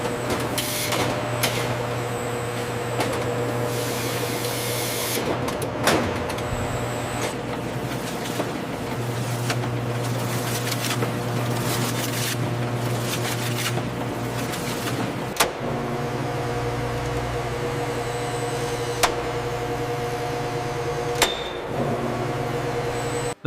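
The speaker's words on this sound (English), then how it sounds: "The bacon is rapidly sliced by high-speed machinery, ensuring uniform thickness and that perfect layered texture you expect." High-speed bacon slicing machinery in a factory whirs and hums continuously, with repeated mechanical whooshes, clatters and sharp clicks and knocks at irregular moments over a steady motor drone.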